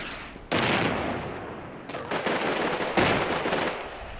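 A Panther tank's main gun fires in a World War II wargame pitting Shermans against Panthers. Loud, booming blasts land at about three points, each trailing off into a sustained rumble.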